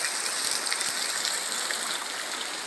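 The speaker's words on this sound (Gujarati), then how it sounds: "જોરદાર પડે છે વરસાદ." Heavy rain falls steadily and evenly, a continuous dense hiss of drops with no talk over it.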